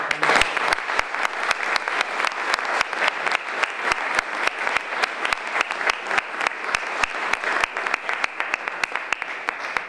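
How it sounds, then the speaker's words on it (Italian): An audience at a military command's anniversary ceremony claps steadily, a dense, even wash of hand claps with sharp individual strikes, moderately close and continuing without pause. "Un applauso."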